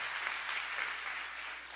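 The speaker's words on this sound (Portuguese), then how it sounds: "vamos aplaudir o Senhor se você foi transformado" Brief, steady applause from a church congregation during a service, moderately loud and even, with no voices over it.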